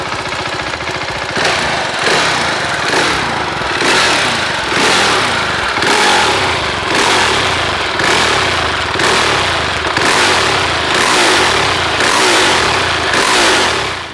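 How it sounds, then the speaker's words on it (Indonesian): A 2020 Husqvarna Vitpilen 701 motorcycle engine runs loud and close, its exhaust pulsing in regular revving surges roughly every second, rising and falling without pause. "dengerin suara mesin dan suara knalpotnya."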